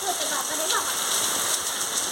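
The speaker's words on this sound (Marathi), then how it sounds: "पाऊस तुम्ही पाहू शकता खूप मोठा आलेला आहे खूपच पाऊस आहे" Heavy monsoon rain pours down close by, making a dense, steady hiss of drops hitting surfaces that holds without a break across the whole moment.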